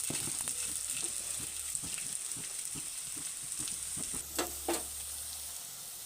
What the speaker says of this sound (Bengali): এগুলো আমি এবার কোপ্তার আকারে ভেজে নেব এইটাকে অল্প করে ভাজি